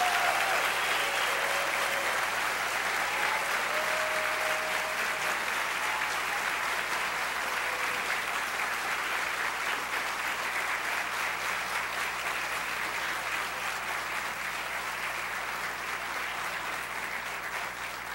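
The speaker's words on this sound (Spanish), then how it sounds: "le brindamos un merecido aplauso a todas y todos quienes han recibido sus diplomas de título" Sustained applause from the audience at a commercial engineering graduation ceremony, an even wash of many hands clapping heard from some distance in a large hall, steady throughout with only faint background murmur.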